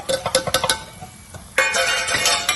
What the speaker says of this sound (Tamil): நம்ம இந்த மிளகாத்தூளை போட்டு அதுல இந்த எண்ணெயில கொஞ்சம் வதக்கணும்